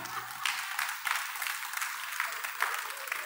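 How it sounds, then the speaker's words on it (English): Church congregation claps hands in a brisk, fairly even rhythm, a bright crackle of many palms at moderate distance with no talking over it. "Somebody clap your hands."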